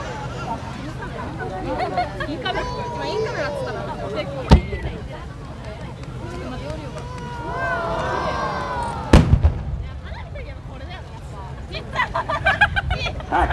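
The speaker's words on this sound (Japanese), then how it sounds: "新潟県の片貝煙火工業による八重心金カメロです" Yae Shin Kin Kamuro fireworks by Katai Enka of Niigata burst over the seaside at the Kamakura Fireworks Festival, sharp bangs near 4.5 and 9 seconds over crowd murmur and crackling, with an announcer talking.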